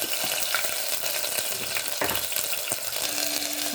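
Garlic ginger paste fries in hot oil in a pan for beetroot rice, giving a steady close sizzle broken by a few clinks and scrapes of a spoon stirring.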